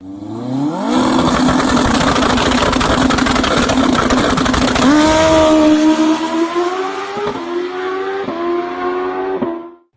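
A 2021 Honda CBR1000RR motorcycle with a conventional tappet-style engine running loud and close, a sustained rough roar with rising revs, then several sharp blips before it cuts off.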